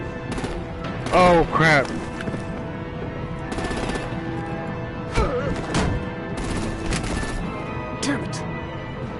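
Gunfire and artillery blasts in a video game battle, bursts of shots and booming impacts scattered through a noisy mix, with excited voices and game dialogue talking over the fighting.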